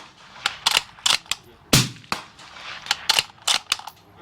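Rifle fire from a Uintah Precision UPR-15 chambered in .223 at a long-range shooting session, a run of about eleven sharp, loud reports spaced irregularly, most distinct and near, with brief gaps of quiet between them.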